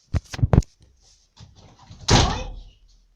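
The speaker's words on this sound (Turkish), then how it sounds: "Kapıyı aç kardeşim." A door in a Roblox game, heard as a few sharp knocks or thumps followed by a louder slam or opening clunk, close and sparse with quiet gaps between.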